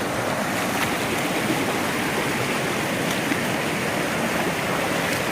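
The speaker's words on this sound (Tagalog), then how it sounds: "may tubig na yung dinadaanan namin" A mountain stream flows beside a hiking trail, a loud, steady broadband rush of water close by that continues unbroken throughout, with no one speaking.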